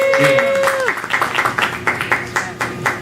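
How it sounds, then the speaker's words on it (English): A poetry reading audience breaks into applause, with a brief voice at the start before a run of close, crisp claps. "one more big round of applause for Candice James' birthday"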